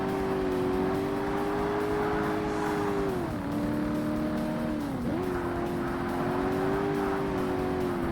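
Sports car engine in Forza Motorsport racing on a track, a loud, steady high-revving drone with two brief pitch dips as gears shift, continuous throughout without speech.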